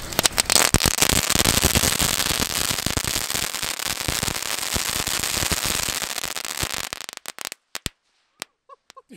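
A string of firecrackers and fireworks goes off in a loud, dense, rapid crackle of pops for several seconds, then thins out into a few scattered bangs separated by silence.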